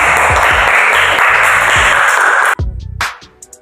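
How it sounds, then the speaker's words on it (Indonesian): A classroom bursts into loud, steady applause for a student for about two and a half seconds, then it cuts off abruptly, leaving a few faint stray claps and taps. "Sekarang berikan tepuk tangan untuk Jalfa."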